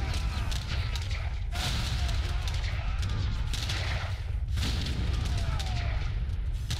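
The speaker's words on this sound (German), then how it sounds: "Und Kanonen feuert." Cannons boom again and again in an Age of Empires III naval battle, heavy blasts over a dense, continuous wash of loud combat noise.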